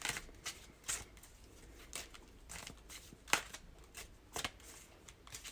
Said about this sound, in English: But first, we shall shuffle.